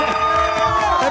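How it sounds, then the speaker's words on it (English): Spectators at the X Games Aspen women's ski superpipe cheer and whoop in a loud, continuous roar close around the listener. "I'm here amongst this incredible crowd."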